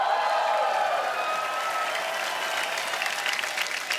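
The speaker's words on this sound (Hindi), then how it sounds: "जोरदार तालियां एक बार" A studio audience at The Kapil Sharma Show applauds loudly, a dense, sustained clatter of many hands that tapers slightly toward the end.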